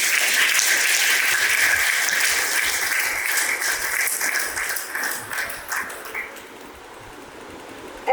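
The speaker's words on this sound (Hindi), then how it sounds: "सबसे पहले मैं चाहूंगी कि आप अपने लिए एक जोरदार ताली बजाएं" A school audience of students gives loud, sustained applause at an inter-school Vedic speech competition, the dense clapping fading gradually toward the end.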